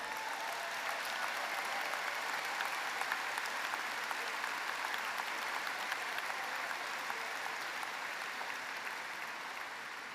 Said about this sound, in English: Take our applause. Come on, let's hear it for him.